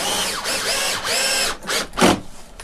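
A screw being power-driven into a mount on a window frame while hanging a Roman shade, with loud close bursts of a drill whirring in several pulses that end with a short ratcheting grind.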